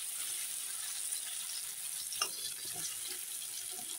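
Potato pieces, salted and dusted with turmeric, frying slowly in a pan, giving a steady soft sizzle throughout with one brief clink near the middle; no talking.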